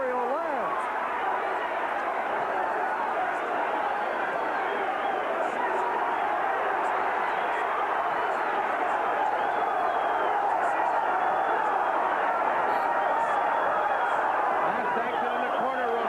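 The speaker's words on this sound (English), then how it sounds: "the crowd is calling off every blow that Rosario lands" A dense, roaring crowd at a 1984 boxing bout between Edwin Rosario and Jose Luis Ramirez keeps up a steady, loud wash of cheering and chatter, with a commentator talking over it throughout.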